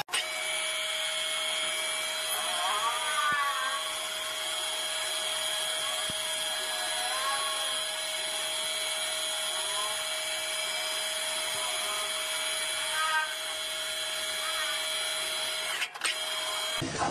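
A power tool sanding and shaping a wooden ladle, putting out a loud, constant mechanical whine and hum with small pitch wobbles, steady for the whole stretch with a brief dip near the end and no voices.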